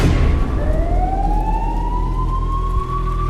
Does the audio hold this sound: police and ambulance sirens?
yes